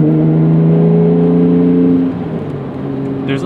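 A 1991 Acura NSX engine revs with a loud, steady tonal drone, then the pitch drops at a gear shift and the engine settles to a lower hum, heard from inside the car.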